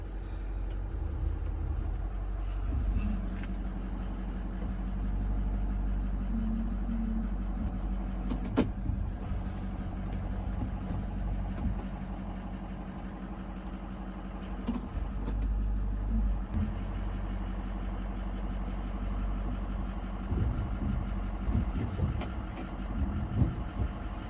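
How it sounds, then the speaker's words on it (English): A truck backs slowly into a Husky fifth wheel hitch, its engine idling low and steady throughout, with faint clunks and creaks of the hitch and trailer mixed in. "as we backed up and the hitch came into the receiver, the handle pushed itself out"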